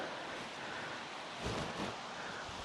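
A stream flows near hemlock trees, its water rushing in a steady broadband wash that swells slightly midway, close and continuous with no voices.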